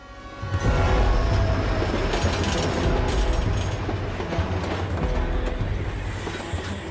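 A train rolls along the rails with a heavy, continuous rumble and rhythmic wheel clatter, loud and close throughout without pausing.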